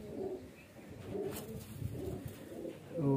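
Highflyer pigeons coo softly and steadily in a loft, low murmuring calls repeating over a faint background hum.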